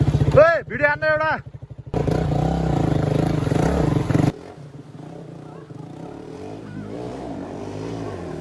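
Motorcycle riding off-road along a riverbed trail, its engine a rough, steady drone with clattering as it moves, under talking and shouting at the start, then quieter and more distant.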